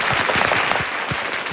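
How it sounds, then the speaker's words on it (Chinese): Audience applause at a Taiwanese TV variety show studio, a dense, steady clatter of many hands filling the whole short moment without voices. "掌声鼓励"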